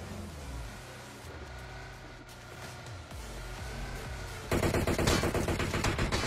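Gunfire from behind in the PUBG video game, heavy and sustained: a steady run of automatic shots over engine-like game noise that turns suddenly louder and denser near the end.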